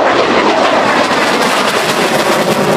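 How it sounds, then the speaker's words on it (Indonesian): An F-16 fighter jet gives a steady, broad roaring rush that holds at a constant loud level throughout, with no voices. "Kalau yang ini pesawat jet tempur. Ini F-16."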